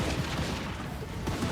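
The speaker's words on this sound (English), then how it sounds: "He's just unfazed by the gunfire." Empire handgunners fire volleys in the battle game Total War: Warhammer II, a dense crackle of overlapping musket shots and booms, with a fresh burst of reports near the end.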